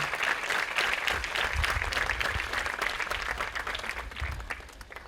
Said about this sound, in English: please give a round of applause to your parents and family members